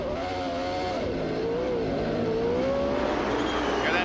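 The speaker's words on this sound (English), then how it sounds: "Different sound on that Honda engine." A Honda-engined CART race car from 1994 at the Vancouver street circuit passes with a sustained, rising and falling engine note over steady track noise, fairly close and loud.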